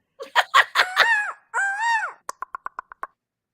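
A voice imitates a bird, with a burst of squawking, clucking calls and a drawn-out crowing cry, then a quick series of short, sharp clicking chirps, all close and clear against silence.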